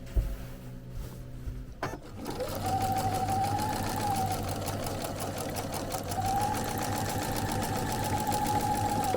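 A sewing machine stitches along a taped line on a quilt, starting after a few clicks and knocks and then running as a fast, steady motor whir with a rapid needle rhythm close by.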